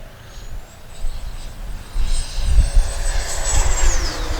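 A Freewing Yak-130 RC model jet makes a fast pass, its high electric ducted-fan whine rising and then sliding down in pitch as it goes by, with wind buffeting the nearby microphone.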